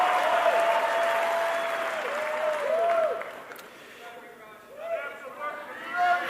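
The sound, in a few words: rally crowd applauding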